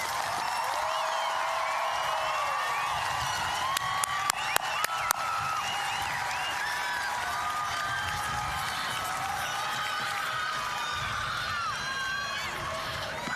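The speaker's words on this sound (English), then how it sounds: "Let's give the class of 2025 one more round of applause." The crowd at an Auburn High School graduation ceremony in Washington cheers, claps and shouts for the class of 2025. The sound is a broad, steady roar with a few sharp claps standing out.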